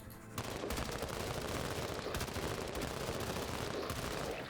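A sustained burst of gunfire from the game MENACE breaks out after a brief quiet start and continues as a dense, rapid rattle of shots, fairly soft overall, with no voices.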